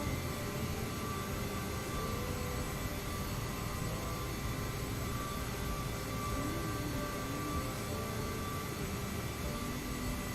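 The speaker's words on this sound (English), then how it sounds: "I can hear some engines moving." CRJ jet engines in Microsoft Flight Simulator 2020 give a steady, continuous drone and whine throughout, with no talking over it.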